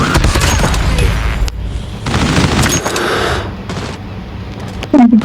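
Rapid automatic gunfire and booming shots from the mobile shooter game Call of Duty Mobile, loud and dense bursts with brief gaps, ending in a short game tone.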